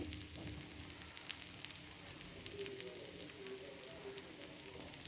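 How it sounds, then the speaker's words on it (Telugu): Pieces frying on a pan over a low flame for a curry, a faint, steady soft crackle and sizzle heard close, with scattered tiny pops. "పెనం మీద ఎన్ని పడితే అన్ని వేయించుకోండి లో ఫ్లేమ్లోనే పెట్టండి"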